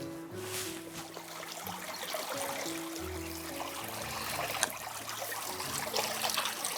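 Water from a clear mountain stream on a Swedish fell trickles and splashes softly, a faint continuous babble with a low steady hum beneath it.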